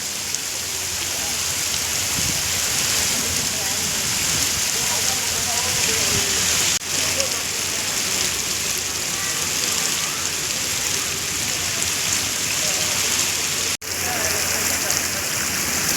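Heavy rain pours down outdoors at Guru Kashi University in Punjab, making a dense, steady wash of hiss that stays loud and constant with only two brief dropouts.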